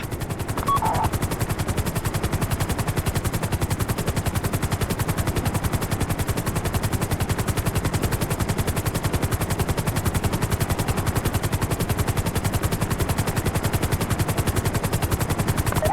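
Sustained rapid machine-gun fire rattles without pause through a GTA Online heist raid on the Humane Labs, the loud automatic bursts layered over a helicopter's rotor drone.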